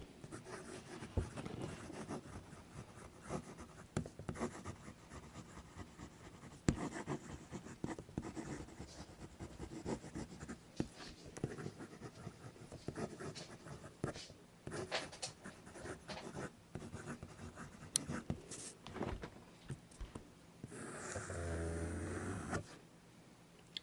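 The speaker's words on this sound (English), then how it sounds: "Now for some fast writing." A handmade fountain pen scratches rapidly across paper in close, continuous fast strokes, a dry scraping texture with brief pauses between words and letters.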